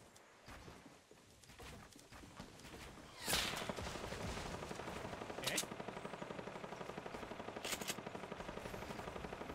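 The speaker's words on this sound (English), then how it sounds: "Somebody shooting at us from on the hill." Gunfire in the Fortnite video game rattles as rapid, even bursts of repeated shots that follow a louder initial blast, with a few sharp cracks standing out, all fairly distant and quiet.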